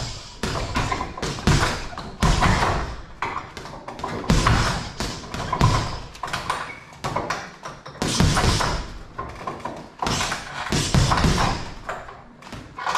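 Punches pound a heavy boxing bag in steady combinations, a dense run of close, loud thuds and slaps with brief gaps between flurries and no talk.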